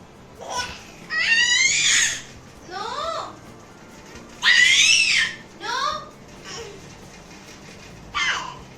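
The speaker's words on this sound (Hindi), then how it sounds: "अरे इतना चिल्लाने लगी है ये लड़की, बहुत चिल्लाती है।" A young girl screams loudly in a series of shrill, piercing bursts, each a second or so long with short pauses between, close by.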